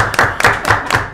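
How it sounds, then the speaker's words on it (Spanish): Audience applause welcoming a dancer onto a stage show, heard as loud, fairly regular bursts of clapping about four times a second, close and without talk. "Yo con un fuerte aplauso vamos a presentar a Yorgeny Martínez"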